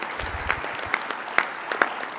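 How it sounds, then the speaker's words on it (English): An audience at a Unifor BC regional union council meeting claps in a scattered, moderately close round of applause, with a few sharper individual claps standing out over a brief, fairly even patter. "So one more round of applause for winning that election."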